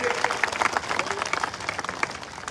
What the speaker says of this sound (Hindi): जोरदार ताली बजा करके इन साथियों का स्वागत करिए।